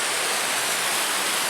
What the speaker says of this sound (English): just coming down here to check out the little waterfall